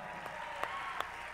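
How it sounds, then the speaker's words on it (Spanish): Concert audience applause, a moderate, even spatter of many hands clapping with a couple of sharper individual claps standing out, somewhat distant and heard alone. "Así que un aplauso más para él."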